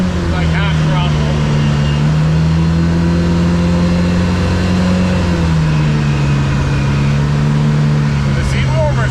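A 2025 Polaris RZR Pro R UTV engine held at about half throttle gives a loud, steady droning hum that wavers slightly in pitch, heard from close by inside the cab.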